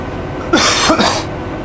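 Two harsh coughs from a person close by, a short pair of bursts under a second apart, with quiet background before and after.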